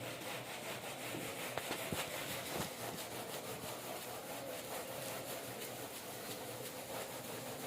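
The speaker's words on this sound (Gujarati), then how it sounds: "જ્યાં સુધી આમ ઘસો ને હાથમાં ગરમી ઉત્પન્ન થાય ત્યાં સુધી ઘસવાનું" Hands rubbing an object briskly to build up a static charge in a classroom demonstration, giving a steady, continuous scraping rub that runs throughout at an even level with no talk.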